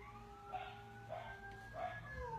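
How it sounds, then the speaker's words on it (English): A dog howls at passing sirens, giving faint, distant rising wails in three short bursts while a thin siren tone drifts underneath. "He howls at the sirens."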